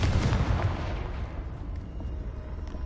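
Confringo blasting spell explosion in a video game, one heavy booming burst at the start that decays into a rumbling, crackling tail over a few seconds.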